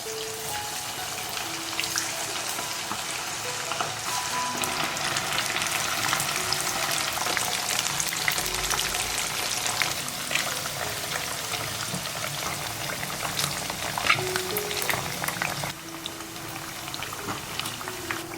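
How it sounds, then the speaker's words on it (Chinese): Cornstarch-coated, marinated fish bones deep-fry in moderately hot oil, giving a steady, close sizzle and bubbling hiss with fine crackles that carries on evenly throughout. "油温5成热，放进来炸。"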